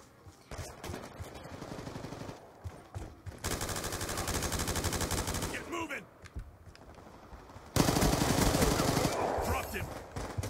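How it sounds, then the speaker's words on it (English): Light machine gun fire in Call of Duty Black Ops 2 multiplayer Hardpoint rattles in long, sustained automatic bursts, with shorter shots between them, while voices talk over the action. "I got this dude's light machine gun."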